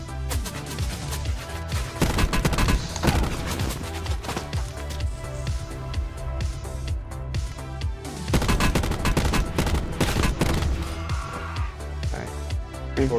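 Bursts of rapid video game gunfire crackle in clustered volleys with brief pauses between them, loud and close, while players talk over the shooting.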